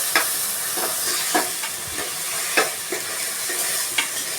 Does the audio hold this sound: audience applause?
no